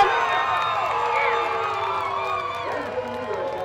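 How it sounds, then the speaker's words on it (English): Crowd at the 63rd National Crown race celebrating the winning driver, a sustained wash of cheering, whoops and shouts from a large gathering, steady and fairly loud throughout. "The crowd celebrating with him"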